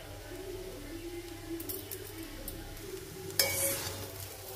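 Chow mein stir-fried over a low flame in a pan, a soft steady sizzle with scraping and stirring, then a louder burst of hiss near the end as soy sauce goes in; no one speaks.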